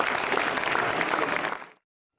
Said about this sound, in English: Give a big clap to them